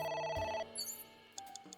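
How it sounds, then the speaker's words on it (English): Telephone ringing inside the video game AI: The Somnium Files, a short clear electronic ring with steady tonal chimes, heard alone without talk. "A phone. Should I pick it up?"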